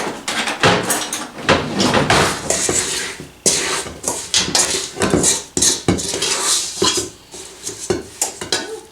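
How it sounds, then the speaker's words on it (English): Cookie filling with butter stirred in a bowl, a spoon scraping and clinking against the dish in repeated loud, close strokes with no talk. "I'm going to stir this around."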